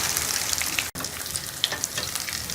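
Chicken bread rolls made from sliced bread fry in hot oil, a loud continuous crackling sizzle with popping bursts, briefly cut off by a momentary dropout.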